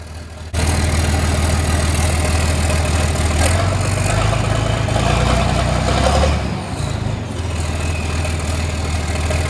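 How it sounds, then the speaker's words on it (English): A turbocharged 4020 tractor with a straight-piped exhaust runs loud and close, holding a steady, rumbling idle with a brief dip in the engine note near the end. "if you turbo a 4020 then don't straight pipe it, you're weird"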